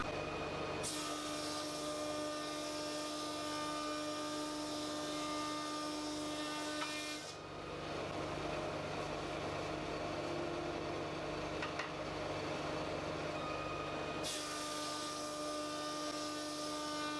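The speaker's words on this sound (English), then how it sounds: "Now I just cut that out with the laser on the bottom." A laser cutter cuts out a shape for the bottom of a curved jewelry box, giving a constant close mechanical hum and airy hiss that shifts character twice as the machine switches phases, with no voices.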